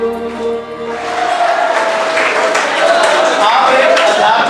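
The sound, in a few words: audience applause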